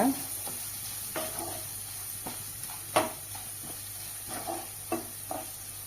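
Chopped onions sauté in a pan until golden for instant rava kara paniyaram, with a soft, steady sizzle and a few scattered stirring scrapes and taps, one louder near the middle.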